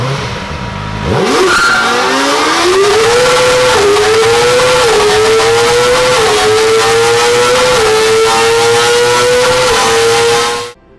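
A Kawasaki Ninja ZX-14R with a 1441cc inline-4 engine revs loudly through its exhaust, climbing in pitch in repeated stepped pulls and holding a high, sustained note before stopping abruptly. It is close and heard alone, with no talk.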